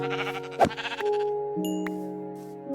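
Sheep in the video game Minecraft bleat several times in a row, loud and close, each cry a wavering tonal call with short pauses between them and no speech.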